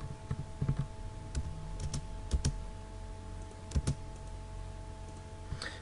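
Keystrokes on a computer keyboard while working in AutoCAD 2018, a scattered run of crisp, close clicks over a low steady electrical hum, no talking.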